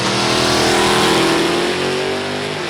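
Drag racing cars, including a Mopar Charger, roar off the line with loud, close engine revving that holds strong throughout.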